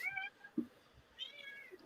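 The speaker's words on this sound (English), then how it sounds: "I hear little meows." A pet cat gives a few soft, small meows, one near the start and another later, faint and close in a quiet room with no talking.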